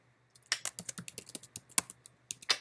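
Keystrokes on a computer keyboard as a password is entered, a quick irregular run of crisp close clicks and taps with a couple of louder key hits, no voice over them.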